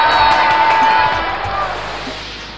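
Children at a Thai science contest cheer and shout for the winner, a loud excited crowd with some clapping that slowly fades, a voice ringing over the noise.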